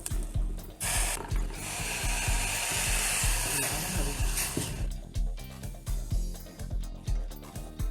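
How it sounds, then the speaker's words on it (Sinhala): Water poured into a hot pan of oats coated in oil and salt, giving a loud sustained hiss and sizzle that fades after a few seconds into bubbling and clinking cookware. "මම වතුර එක දාගන්නවා මේකට."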